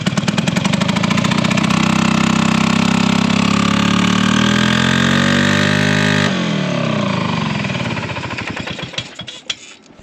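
An extreme custom Harley motorcycle engine runs loudly during its first test run, wheels spinning inside the tires, with a steady pounding rumble that rises in pitch, then settles and trails off near the end.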